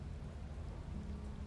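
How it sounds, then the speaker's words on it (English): Steady rain falls in the video game Slay the Princess, a soft, even, continuous hiss with no voices over it. "Raining. It wasn't raining last time."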